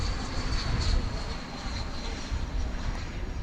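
An American Airlines Airbus A321 in Piedmont livery moves at DFW Airport at night, producing a continuous broad jet roar with a faint high whine, steady and moderately loud from near the runway.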